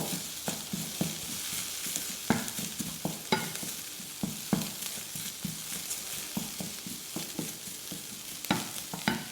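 Onions sauté in a small splash of olive oil in a home kitchen, giving a soft continuous sizzle broken by regular spoon-stirring clicks and scrapes, heard close up with no talking.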